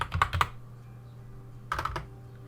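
Brief bursts of typing on a computer keyboard, a few quick clustered keystrokes, a pause with a faint hum, then another short flurry of clicks, close and soft.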